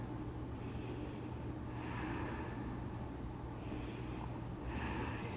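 Slow, deep yoga breaths in cat pose with chin tucked and back rounded: about four airy inhale and exhale cycles, close to the mic, over a steady low room hum.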